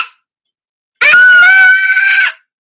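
A child screams loudly and alone for about a second and a half, a sustained high, harmonic shriek with a sharp onset, recorded up close in a room.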